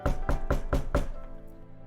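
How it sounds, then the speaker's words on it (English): Five firm knocks on a door in an even, quick rhythm, close and loud, followed by a short fading ring with no voices. "He will then knock on the door."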